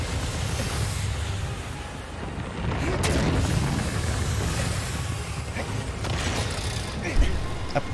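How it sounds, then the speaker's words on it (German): An angry colossus firing shots in Shadow of the Colossus, heard as deep booming blasts under a rumbling game soundscape, with one sharper hit near the end. "Er ist wütend und schießt."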